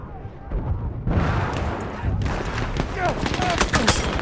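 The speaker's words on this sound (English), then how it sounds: "I'm dodging all the bullets right now" Dense, sustained gunfire and bullet impacts from the Battlefield 1 video game, rapid bursts of machine-gun and rifle shots filling the clip loudly and continuously, with someone talking over parts of it.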